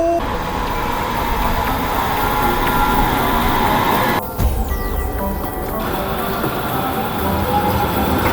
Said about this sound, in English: Now the train is coming here into the platform.